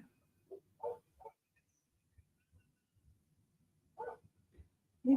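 A dog barks in a few short, scattered bursts at a distance, faint against a quiet room with no talking.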